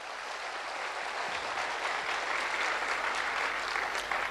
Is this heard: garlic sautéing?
no